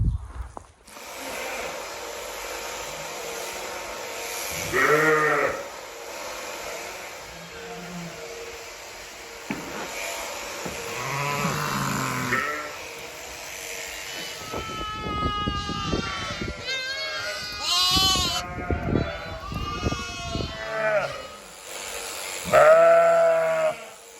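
Sheep waiting to be sheared on a farm bleat repeatedly, some calls close and loud and others farther off, scattered across a steady background hum with occasional shuffling.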